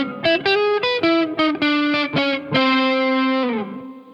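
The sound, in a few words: electric guitar blues lick with distortion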